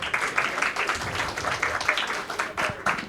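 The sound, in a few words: audience clapping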